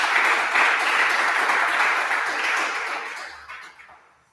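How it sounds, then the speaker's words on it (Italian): Audience applause at the close of a RomaJS developer meetup talk in Rome, a burst of clapping from a room of attendees that holds steady and then tapers off toward the end. "un applauso."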